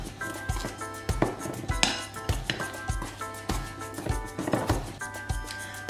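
A butter, sugar and flour dough for a Christmas checkerboard pastry being mixed in a bowl, with steady repeated scraping and knocking strokes, close and moderately loud, without talk.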